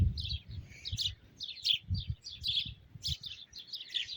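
Sparrows chirp continuously in quick, bright bursts over a low background rumble, moderately close and steady.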